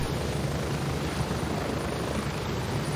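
A helicopter in the Gray Zone Warfare video game flies steadily overhead, its loud, continuous rotor and engine roar filling the scene without pause and with no talking.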